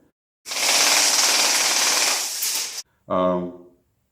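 A BBV MG BB machine gun fires one long rapid burst of about two and a half seconds, loud and close, followed by a short pause and a second brief burst with voice-like tonal bands mixed in.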